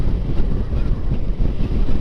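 Riding a Honda CBR150R K45 sport motorcycle fitted with a windshield visor produces a constant, loud, close buffeting of wind noise, a dense low roar that pulses unevenly.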